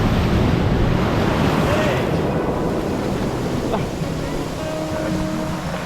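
Rough sea at a beach resort, heavy surf crashing and churning in a constant loud roar, with strong wind buffeting the microphone.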